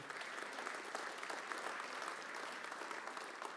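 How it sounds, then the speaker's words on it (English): An audience applauds managing editor Elizabeth Thompson at a public forum in a lounge, a soft, even wash of many hands clapping, distant and steady for several seconds with no talk over it. "So give her a round of applause, too."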